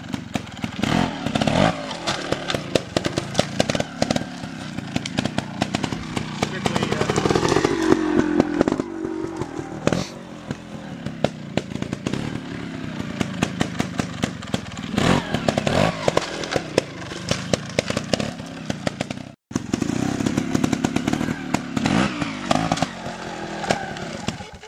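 Motorcycle ridden over a log with the clutch out: a loud, continuous close engine roar with rough crackling revs throughout, a brief dropout near the end before the engine picks up again.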